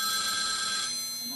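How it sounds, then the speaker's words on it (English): A mobile phone rings with a bright, steady electronic tone, loud and close, with no talk over it. "Yeah, that's my phone."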